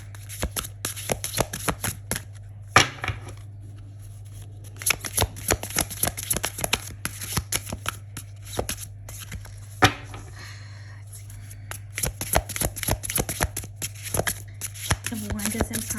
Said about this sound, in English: These are a little bit harder to shuffle.